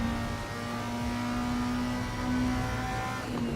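Racing car engine in Assetto Corsa EVO, droning steadily at a constant pitch throughout with a busy, loud texture and no talking.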